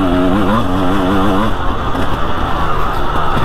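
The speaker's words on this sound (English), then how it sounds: "It's got some sort of meaty exhaust on it, which makes it sound pretty good" A big enduro motorcycle with an aftermarket exhaust revs with a deep, throaty note, pitch wobbling up and down before settling into a rough, loud rumble nearby.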